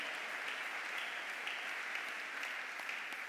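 A church congregation at a Pentecost Sunday service claps together in steady, even applause. The sound is fairly faint and distant and fills the whole short stretch.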